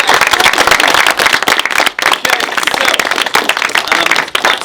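Loud, close applause and clapping from an audience welcoming an actor at a cast Q&A, dense and uneven with sharp individual claps and a brief dip near the middle.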